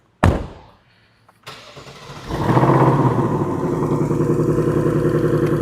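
A Ford Mustang engine with quad-tip exhaust in quiet mode cranks and catches, then settles into a steady, fairly subdued idle with a low rumble from the exhaust.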